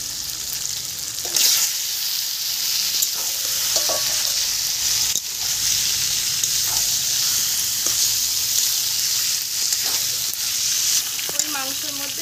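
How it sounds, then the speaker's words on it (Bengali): Meat frying in spiced oil that has separated from the masala, a loud continuous sizzle close by with intermittent stirring scrapes and clinks throughout, no talking. "এবার আমি মাংসটা ঢেলে দেবো।"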